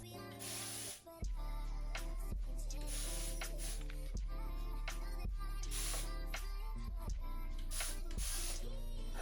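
Water is spritzed from a spray bottle onto starter locs in a series of short, close, hissing bursts, with other sound running steadily underneath.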